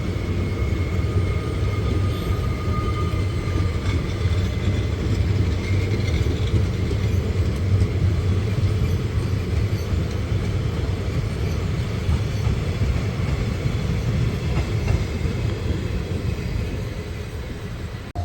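The Veraval–Gandhinagar Capital Intercity train passes on the main line with a loud, steady rumble and roar of wheels and carriages that lasts the whole stretch, then eases slightly at the end. No voices are heard.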